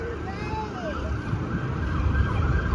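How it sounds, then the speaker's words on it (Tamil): A police car siren wails with rising and falling sweeps on a street in Halifax, Canada, steady and moderately distant over a low traffic rumble. "தோ ஒன்னு சைரன் போட்டு வருது."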